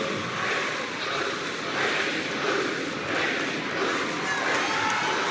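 A sellout crowd at a college basketball game between Nevada and Utah State roars steadily, a broad unbroken wash of cheering that swells slightly in waves and holds loud throughout.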